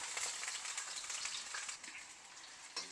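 Chunks of elephant yam frying slowly in oil for a curry, a soft continuous hiss of bubbling oil with faint occasional stirring, close but quiet.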